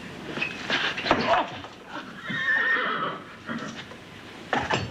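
A horse whinnies loudly nearby, its shrill neigh rising and falling, with hoof clatter and brief voices mixed in.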